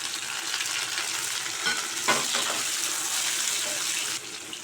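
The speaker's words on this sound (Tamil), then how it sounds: "வெங்காயம் சேர்த்து வதக்கி விட்டுக்கலாம். அது கூடவே ஒரு 5-6 பல்லு பூண்டு தட்டி வச்சுருக்கேன், அதையும் சேர்த்துக்கலாம்" Sliced onions and five or six cloves of crushed garlic sauté in a pan with a dense, steady sizzle and a brief flare of crackle, close and continuous, with no talking.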